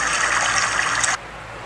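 Steady broadband trickle of running water for most of the clip, close and fairly loud, cutting off abruptly near the end.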